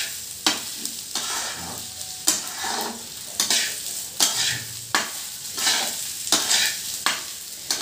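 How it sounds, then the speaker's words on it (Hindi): Rice for basanti pulao stirred and roasted in a pan, a spoon scraping through the grains in regular strokes about every second over a steady frying sizzle, close and clear with no talking. "अब इस चावल को हम लोगों को थोड़ा देर के लिए भूनना है"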